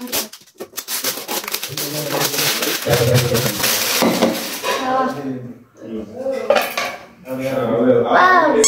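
Steel bowls and lids handled during an unboxing of gifts, with loud metallic clanks, scrapes and ringing taps in irregular bursts close by, while a person talks over the handling at intervals.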